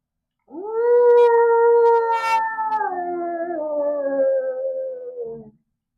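A wolf howl imitated by a voice while telling a Christmas story, one long loud rising-then-falling wail with a slight waver, heard alone and close.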